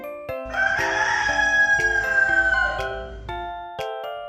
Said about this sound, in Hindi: दूसरी तरफ शेर ने जब मुर्गे की आज़ान सुनी